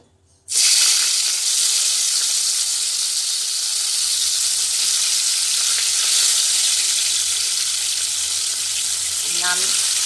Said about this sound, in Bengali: এবার আমি এই যে গায়ে হলুদ মাখানো ইলিশ মাছ, এগুলো আস্তে আস্তে ভেজে নেব